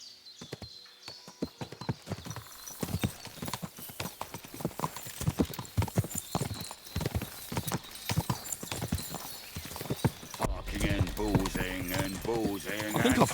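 Horse hooves clip-clop steadily in medieval game Kingdom Come Deliverance 2, a close, rhythmic walking gait with a whinny near the end, while someone talks over it.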